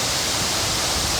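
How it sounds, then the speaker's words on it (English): A waterfall in a conservation park along the Credit River rushes in a dense, steady roar of falling water, loud and close with no break. "And then behind me is the waterfall"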